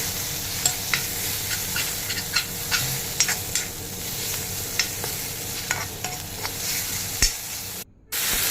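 A spatula stirs turmeric through a little oil in a pan for a taro and dried fish dish, with a steady close sizzle and regular scraping taps, broken by a brief dropout near the end.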